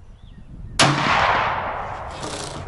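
A single sharp, loud rifle shot from a Los 145 hunting rifle firing TulAmmo cartridges, outdoors at a shooting range, followed by a decaying echo and no talking.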